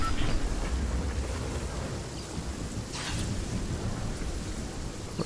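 Storm in Fortnite: a steady low rumble of thunder and rain-like wash, loud and continuous, with brief brighter hiss bursts and no talk.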